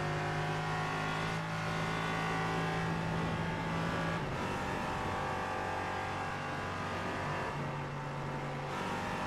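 Race car number 404 in a sim racing battle at the Nürburgring: a loud, continuous engine howl that drops sharply as the driver lifts off the throttle, then builds again, with another car's engine close behind.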